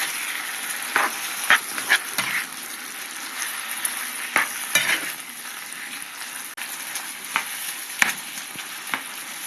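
Liver and onions fry in a pan with a constant close sizzle, broken by occasional spatula scrapes and stirring knocks scattered through, and no one talking.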